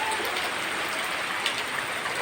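Heavy rain pours down around a house, a dense, steady hiss of downpour on surfaces that stays loud and unbroken throughout, with no voices.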